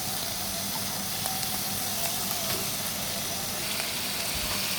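Pieces of koi fish sizzle in a dry wok with no oil, giving a constant, steady hiss and crackle, close and fairly loud.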